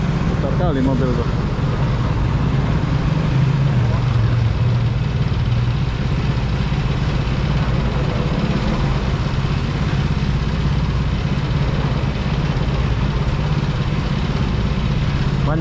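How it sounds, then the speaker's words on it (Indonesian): Steady roar of dense street traffic with many cars and engines idling and moving along Petaling Street in Kuala Lumpur, continuous and fairly loud, with a voice talking over it. "Banyak mobil ya di sini ya."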